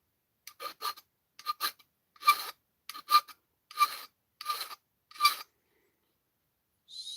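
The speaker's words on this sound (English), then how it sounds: "I actually find filing very relaxing." Hand filing of a wrought iron flintlock trigger guard: seven rasping stroke pairs in a steady rhythm, close and clear, then a short final stroke after a pause.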